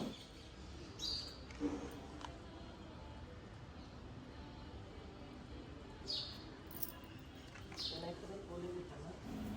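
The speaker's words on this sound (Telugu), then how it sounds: "సౌండ్స్ చూసారు కదా అలా బర్డ్ సౌండ్స్తో చాలా బాగుంటుందండి మాకు మార్నింగ్ అయితే" Morning birdsong outside a home: a few faint, distant chirps break through a steady low background hum, with no clear nearby calls.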